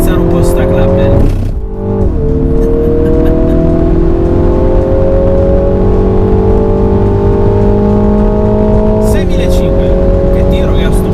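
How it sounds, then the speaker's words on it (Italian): MINI John Cooper Works GP 2020 engine revving hard while being driven, a loud, close, sustained drone that climbs steadily through the gears, with brief dips at each shift. "adesso vediamo di strapazzare un po' sta Clubman"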